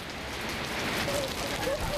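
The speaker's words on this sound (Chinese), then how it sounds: "就算帶咗遮，亦都擋唔到雨。" Heavy rain pours down in Hong Kong during Typhoon Haima under a strong wind signal, a steady, dense broadband hiss of rainfall that lasts throughout with no voices.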